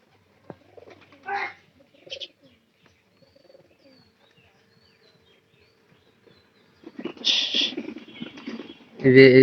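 Pigeons coo softly in short bursts separated by quiet gaps, ending with a louder flurry of cooing close by.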